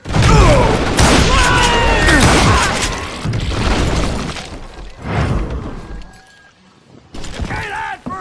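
A rapid exchange of gunfire in a Call of Juarez Gunslinger western shootout: loud overlapping shots, booms and ricochet-like whines that fade briefly before another burst, with a voice over parts of it.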